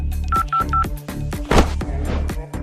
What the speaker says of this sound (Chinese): 扎古拨通了家里女人的电话。